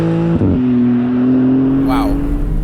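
A Maserati MC20 Cielo engine revs hard under acceleration, its loud, close note climbing and shifting pitch as the revs rise, with a brief break near the start.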